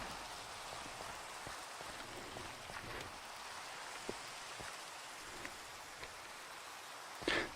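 Rain in the Minecraft VR video game falls as a steady, faint hiss with scattered soft drop ticks, continuous and alone with no voices.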